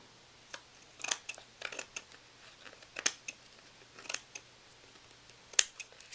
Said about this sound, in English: now we're just going to cut right around the page, get a nice clean edge